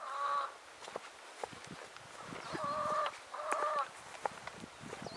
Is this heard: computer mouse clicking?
no